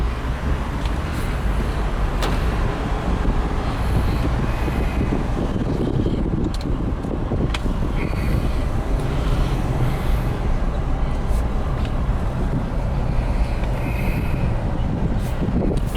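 A 2005 Jeep Grand Cherokee Limited 4x4 with the Hemi engine on the move: a steady, continuous low road rumble with tire and wind noise from inside the cabin, and no talking.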